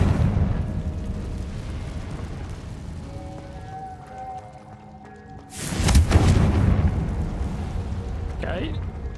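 A Confringo spell goes off in Hogwarts Legacy as one sudden loud explosive burst after quieter game sounds and music, followed by a rumbling tail and a light crackle.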